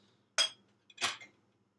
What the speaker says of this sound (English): Place glasses, wine glasses, and coffee mugs all around the plates and dishes.